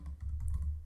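Quiet, rapid clicking of computer keyboard keys as a SQL query is typed, a brief close burst of soft keystrokes.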